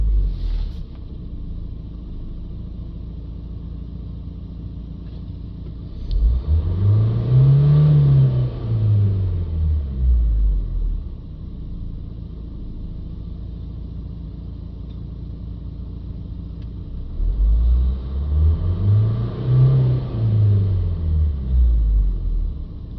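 A Renault Trafic van engine with an anti-pollution system fault revs up twice, each time rising from idle to a rumbling peak and sinking back down, with a steady idle hum between the two rises and no talking.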